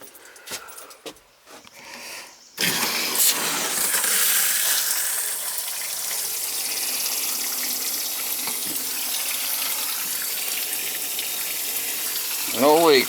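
A newly replaced outdoor shower runs steadily, a loud continuous spray of water starting abruptly after a few seconds of handling noises and continuing alone to the end.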